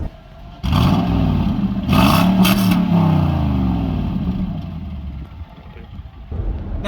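A Jaguar XK's 4.2-litre naturally aspirated V8 revs loudly from close by, rising and falling through a couple of strong bursts before settling toward a lower rumble, with a fresh rise at the end.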